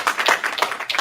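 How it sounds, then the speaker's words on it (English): A round of applause from a live show audience on a St. Patrick's Day special broadcast, brief dense clapping with no voices over it. "let's give a round of applause for our wizard who has stepped back with us"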